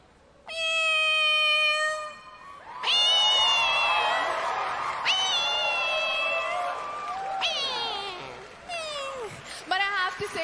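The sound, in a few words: person imitating a cat's meow on stage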